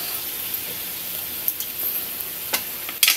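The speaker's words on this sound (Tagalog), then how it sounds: "Habang hinahalo ko, isasabay ko na tong ating repolyo para mahalo natin lahat ng ingredients." Bean sprouts and cabbage stir-fried together in a pan, a soft steady sizzle with a few sharp scrapes and clinks of stirring toward the end, no voices.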